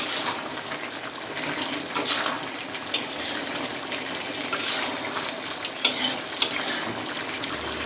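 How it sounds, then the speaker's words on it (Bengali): Curry of broiler chicken with tender bottle gourd being stirred in a pot after the lid comes off, with water added: a steady wet sizzle and trickle, gentle scraping, and a couple of sharp clinks of the spoon near the end. "ঢাকনা তুলে নিয়ে বন্ধুরা আলতোভাবে নেড়ে ছেড়ে জল দিয়ে দিব"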